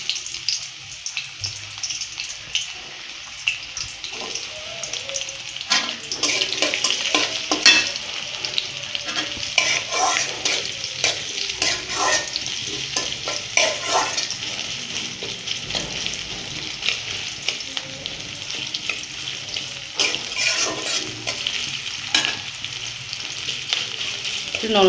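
Onions frying in a pan for singara filling, a steady close sizzle with bursts of stirring and scraping strokes through the middle, continuing alone without talk.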